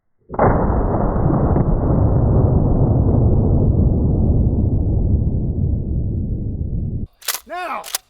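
A shotgun firing a 3.5 inch turkey shot shell at a Furby gives one sudden loud blast with a long decaying roar, and a voice follows right after.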